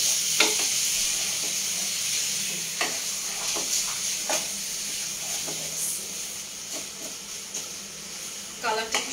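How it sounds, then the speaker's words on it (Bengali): Food frying in a pan during home cooking gives a soft continuous sizzle with occasional scraping stirs and clinks of a utensil against the pan, fairly quiet and close. "এখন আমি এটা একটু ভেজে নিই।"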